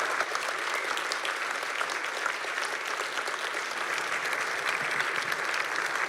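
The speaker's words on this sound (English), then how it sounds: "let's give her another round of applause" A lecture audience gives sustained, even applause for author Leila Philip, a steady wash of many hands clapping at close range with no gaps.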